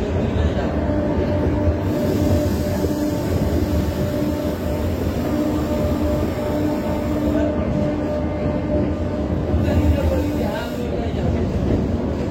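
A Kolkata Metro Blue Line train makes a steady, loud, enclosed rumble with a constant whine and rail noise for the whole ride, and nothing breaks it.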